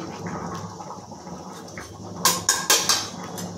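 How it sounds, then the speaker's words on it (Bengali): Lid lifted off a pot of steamed drumstick stems, a few bright metallic clanks and scrapes near the end after a quiet stretch of low background hiss. "ঢাকাটা খুলে নিচ্ছি"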